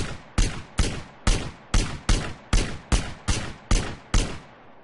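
Ten sharp, loud sniper rifle shots in GTA San Andreas, fired at a steady, evenly spaced rhythm, each a crisp crack with a short decaying tail.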